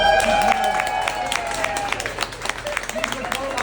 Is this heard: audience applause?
yes